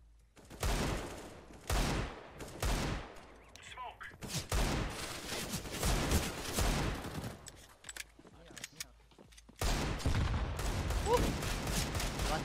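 Rapid bursts of gunfire from the video game CS:GO in a clutch round, loud and repeated in several clusters with brief pauses between volleys, with a voice talking intermittently over the shooting.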